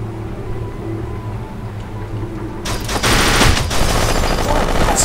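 Shotgun and automatic gunfire from the video game Kane and Lynch 2 erupt suddenly after a quieter rumbling stretch, with loud, rapid overlapping shots that continue to the end.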